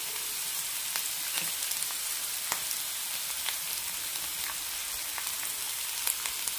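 Chopped onion and crushed garlic fry in a pan, giving a steady, even sizzle with scattered pops and crackles, close up and without talk.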